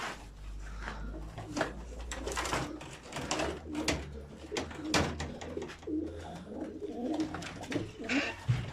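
Pigeons coo repeatedly at close range over a busy, cluttered background, with several overlapping soft calls throughout.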